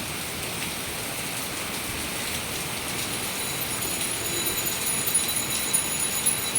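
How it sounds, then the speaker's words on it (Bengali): Steady rain falls in a dense, even hiss that rises slightly toward the end, heard alone without voices. "দেখো বৃষ্টির দৃশ্য ভালো লাগে, তাই তোমাদের কাছে শেয়ার করলাম।"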